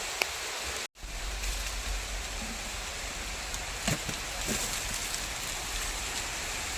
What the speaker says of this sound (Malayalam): അപ്പോൾ നല്ല മഴയും പെയ്തിക്കണേ